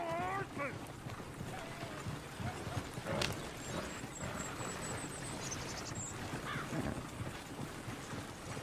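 Rapid hoofbeats of galloping horses in Red Dead Redemption 2 clatter amid busy game noise and wind, with voices talking over the commotion.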